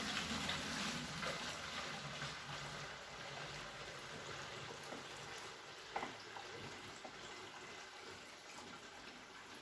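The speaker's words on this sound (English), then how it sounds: "now we're going to just decant into my bucket, into my still" Peach brandy wash being poured from a bucket into a still, a continuous faint gushing and splashing of liquid with a small knock near the middle, no talking.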